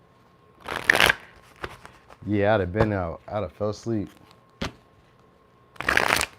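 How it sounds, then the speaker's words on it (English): A deck of tarot cards is shuffled in quick riffling bursts, one at the start and another at the end, with a person talking in between. "let me quick shuffle one more time"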